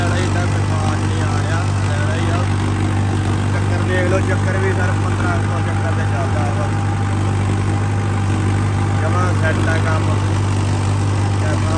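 A loud, steady engine drones and idles close by throughout, constant and unchanging.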